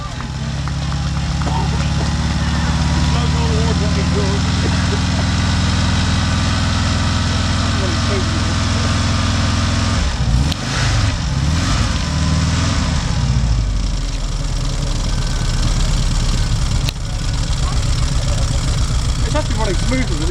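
A Volkswagen Syncro van engine idles loudly and steadily just after starting, with a deep, even low rumble and a brief rougher patch midway through.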